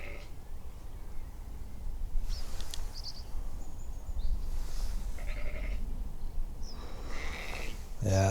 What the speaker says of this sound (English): Bloody noisy, these sheep